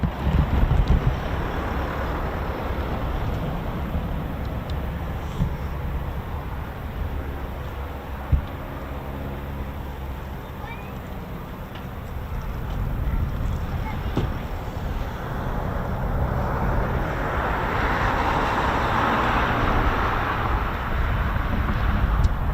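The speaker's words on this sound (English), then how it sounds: "back to the Foons that are taxiing" Eurofighter Typhoon FGR4 jets taxi at RAF Coningsby, a broad, steady, distant roar of engines heard through heavy wind noise, swelling toward the end, with a voice talking at times.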